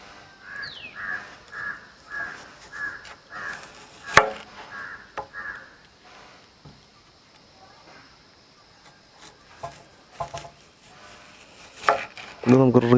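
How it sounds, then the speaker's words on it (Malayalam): Knife slicing an onion into round rings on a cutting board, a run of regular close cutting taps followed by sharper isolated cuts and a louder clatter at the end, with faint background noise. "നല്ല റൗണ്ട് ഷേപ്പിൽ ഉള്ളി മുറിച്ചെടുക്കാം."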